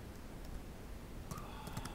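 Typing on a computer keyboard, a few faint light clicks over steady background hiss, clustered toward the end.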